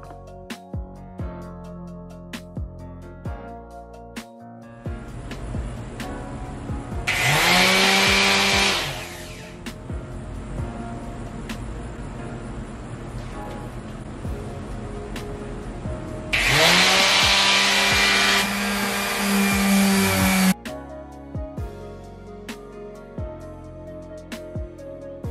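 Electric sander working over a wooden dresser in two loud bursts of high whine, each lasting a few seconds, separated by quieter stretches of background music and handling noise.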